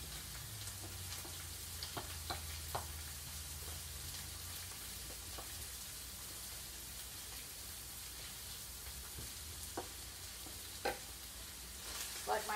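Hamburger meat frying in a pan for a hamburger and cabbage medley gives a steady sizzle, with occasional scrapes and clicks as it is stirred.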